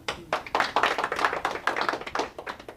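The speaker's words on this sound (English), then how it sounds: "Give her a big round of applause." An audience applauds in a pain-relief session, a short round of quick, close claps that start, fill the room steadily for a couple of seconds, then taper off.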